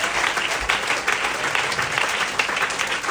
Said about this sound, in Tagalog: Palakpakan natin ang ating Panginoon.